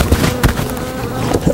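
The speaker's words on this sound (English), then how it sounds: "It's like a freaking wasp." A large wasp buzzes close by, with loud, uneven whirring and several sharp bursts as it moves around, and no talking.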